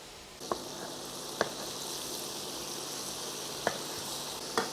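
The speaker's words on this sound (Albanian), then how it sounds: "Tash i mori lugë dhe i përzi." Homemade meatballs crackle and sizzle steadily in hot oil while a spoon stirs them, its light clicks against the pan coming every second or so over the constant close frying hiss.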